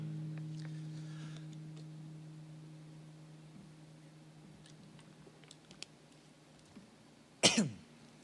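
A single short, harsh cough bursts out near the end during a live music stream, after a stretch of quiet room hum and a few faint clicks.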